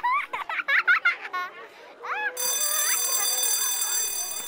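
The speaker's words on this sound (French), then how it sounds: "Oh, la sonnerie" Children chatter and squeal briefly at recess, then a bright electronic school bell rings on steadily, sustained and fairly loud, as kids' voices fade under it.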